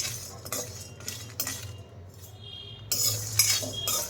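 Whole spices such as coriander, cumin, fennel, dried chillies, cashews, almonds, cinnamon, cloves, nutmeg, mace, peppercorns and star anise are dry-roasted over a low gas flame, with a spoon scraping and clinking against the pan in uneven strokes, close and moderate.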